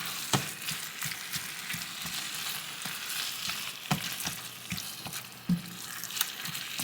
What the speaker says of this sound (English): we are going to put the ground beef. And we are going to mix it around nice and brown